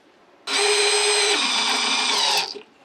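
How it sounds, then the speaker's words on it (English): A power drill drives a screw into a wooden workshop workbench in one close, loud, whirring burst of about two seconds that starts abruptly and tapers off. "I'm going to drive one of these screws in."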